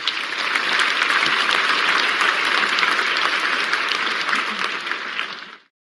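Steady applause from an audience, a dense wash of clapping that holds for several seconds and then cuts off abruptly.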